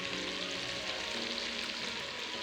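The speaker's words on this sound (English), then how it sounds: "Then I dry fry the meat till it's golden brown." Meat and onions frying in oil in a pan, a steady, dense sizzle that stays loud and unbroken throughout with no voices.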